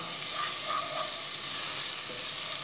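Chopped carrot and onion frying together in a pan with garlic before brown rice is added, giving a low, even sizzle that holds steady throughout with faint stirring.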